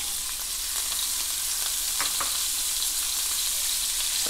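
Carrots, celery, onion, garlic and rosemary sauté in a pan with a loud, steady, hissing sizzle that continues throughout, broken by a few faint stirring scrapes.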